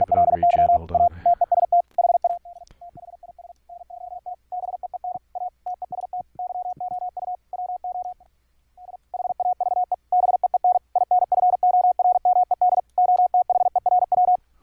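Morse code plays from an audio file through software as a single steady tone, keyed in clean on-off dits and dahs. It is loud and runs alone for about fifteen seconds, with one short gap midway.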